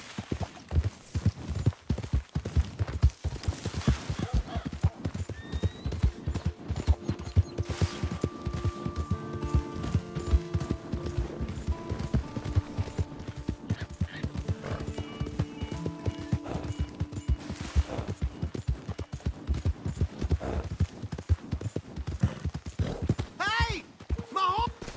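A horse's hooves clip-clop in a steady, fast rhythm within a video game, with a whinny and clattering effects mixed in under intermittent voices.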